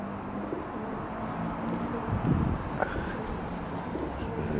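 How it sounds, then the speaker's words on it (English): Soft, low cooing of a wood pigeon amid outdoor ambience and faint wind, with a few distant chirps. "We got a wood pigeon here."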